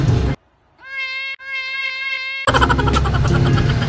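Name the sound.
cat meowing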